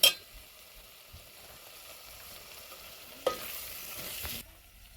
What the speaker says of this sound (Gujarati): હવે એને ઘડીક આપણે સળવા દઈશું.